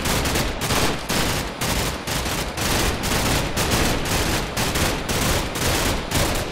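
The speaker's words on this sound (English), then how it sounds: "Oh, the minigun is very effective!" A minigun in a modded Minecraft game fires a dense, continuous stream of rapid shots, loud and close, with its rattling roar pulsing slightly throughout and no voices over it.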